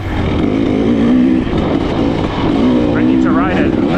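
A KTM 300 XC-W dirt bike on a trail ride holds a loud, close, steady engine drone with small surges and rising revs near the end.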